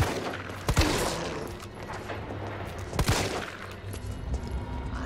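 Gunfire in the Resident Evil 3 Remake video game, two sharp loud shots a couple of seconds apart standing out over a rumbling, noisy background of action.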